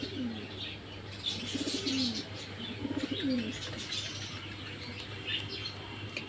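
Pigeons at a pigeon shop in Kolaghat, West Bengal, cooing in repeated low throaty rolls, with chirps and occasional wing flaps over a steady background hum; no talking.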